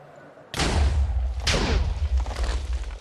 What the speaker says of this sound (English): It just keeps exploding.